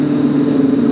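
A Honda CBR Fireblade SP motorcycle's engine roars loud and close in a brief, steady drone, with no passing rise or fall.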